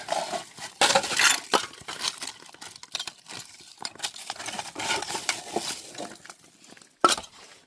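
Glass bottles clink and rattle against each other while digging through an old inn dump, with scattered sharp chinks and scraping over about eight seconds and a louder clink near the end.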